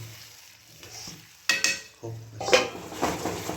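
Potato and green pea curry being stirred in a frying pan: a low sizzle with two bursts of scraping and clanking of a spoon against the metal, close and moderately loud, no talk.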